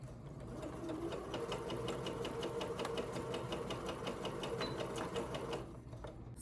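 A sewing machine runs a test stitch on a fabric scrap, its needle chattering in a rapid, even rhythm for several seconds before slowing to a stop, close and alone.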